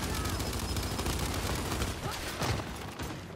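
Dense gunfire from the Gears 5 video game during a team deathmatch, a steady barrage of rapid shots with a louder burst near the end, under a faint voice.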